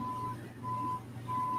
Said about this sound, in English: That's the garbage truck or something.